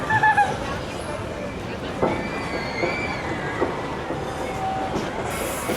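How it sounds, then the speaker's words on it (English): An amusement park train at Knott's Berry Farm rumbles past steadily with faint wheel squeals and clicks, alongside background crowd noise and a brief voice at the start. "I just heard the train go by."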